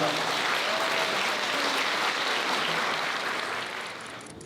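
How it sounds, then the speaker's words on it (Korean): Wedding guests at the Amoris hall in Yeoksam give a big round of applause during the ceremony, a thick, even wash of clapping that tapers off near the end. "여러분 큰 박수 부탁드리겠습니다"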